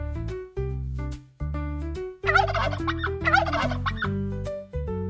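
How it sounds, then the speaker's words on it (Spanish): A turkey gobbles loudly and close in two rapid, rattling bursts over a steady tonal background. "Correcto, es el pavo."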